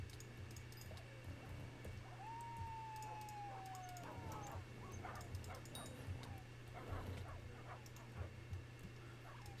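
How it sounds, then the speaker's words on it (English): Dogs bark and growl in a fishing video game, with sharp yips and barks scattered over a steady low background hum, fairly faint and continuous through the scene. "They bark and growl so much."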